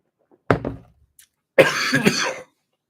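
Two short bursts of coughing close by from something going down the wrong way, a brief sharp cough followed about a second later by a longer, rougher spluttering cough.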